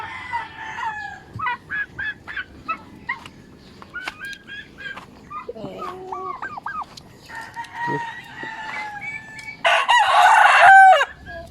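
A rooster (barako) crows repeatedly among clucking fowl in a Filipino backyard where peafowl are raised, ending in a loud, close crow.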